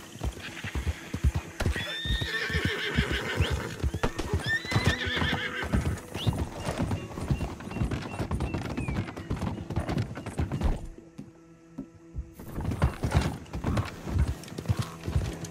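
A horse gallops in Red Dead Redemption II with rapid, steady hoof clip-clops throughout, while a few whinnies ring out near the start and the tack jingles. A brief quieter lull comes near the end before the galloping picks up again.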